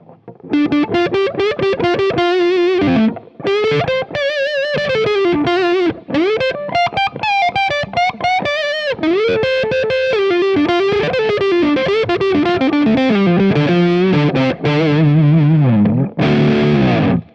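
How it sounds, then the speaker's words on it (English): A Gibson Les Paul on the neck pickup with the tone knob rolled fully down plays a fast, fluid, distorted lead with bends and vibrato, producing a dark, smooth woman tone; loud, close and continuous without talk. "just roll the neck pickup tone all the way down, and then you get this"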